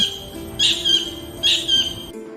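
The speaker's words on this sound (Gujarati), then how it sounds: "કિંગફિશર એટલે કલકલિયો જે આપણને પાણીના સ્ત્રોતની નજીક જોવા મળે છે તે કેવી રીતે બોલે" A kingfisher gives two brief, shrill chattering calls about a second apart, fairly close and clear over a low steady background hum.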